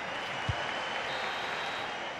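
Crowd applause in a FIFA video game match broadcast, a steady wash of stadium clapping and crowd noise throughout, with one brief low thump near the start.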